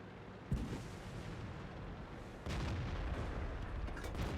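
A heavy boom from the Obj. 430 tank's main gun in a tank battle game, followed by a second loud shot and sustained rumbling engine and battle noise.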